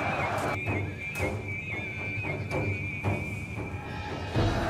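Battle sound effect of horses neighing amid galloping hooves in a clash of Seljuk and Byzantine cavalry, with a loud, steady bed of shrill whinnies and scattered hoof clatter running throughout, no voices.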